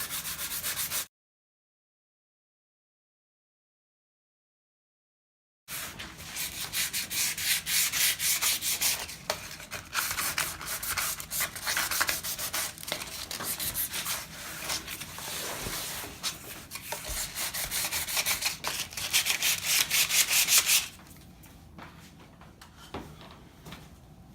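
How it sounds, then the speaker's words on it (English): A sanding sponge rubs back and forth along the grain of a wooden kitchen cabinet door in steady, rhythmic scratchy strokes, close and continuous for about fifteen seconds after a silent gap. "you need to sand with the grain of the wood"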